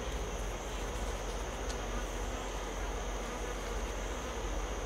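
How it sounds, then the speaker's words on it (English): Honey bees swarm over an opened hive packed with bees, a dense continuous buzzing drone that stays close and loud throughout with no talking. "the entire top of the hive is packed with bees"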